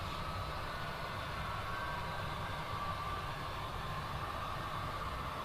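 Continuous low rumble and rolling hum of a model coal train of about 38 bathtub coal cars running along layout track, steady and close with no pauses or speech.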